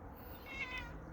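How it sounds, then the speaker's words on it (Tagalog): A cat in a backyard lets out a single short meow, faint and close against quiet outdoor background. "Ang pusa ni Mark."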